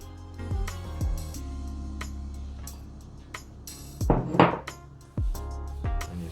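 Crumble ingredients are mixed with dairy-free butter in a bowl, with irregular knocks, clinks and scrapes of utensil against dish and a brief rustling burst midway, fairly quiet and close.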